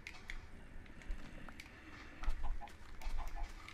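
Chickens in the video game Minecraft give a few short clucks in quick bursts, fairly faint, over a steady low background hum.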